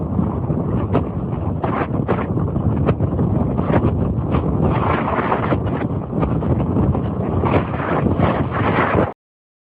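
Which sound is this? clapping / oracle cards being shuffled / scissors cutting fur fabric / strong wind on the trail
strong wind on the trail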